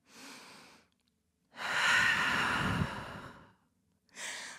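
Deep, slow breathing during a yoga session held in downward dog: a soft exhale, then a long, full breath with a hollow, airy rush, followed by another breath starting, close and unhurried.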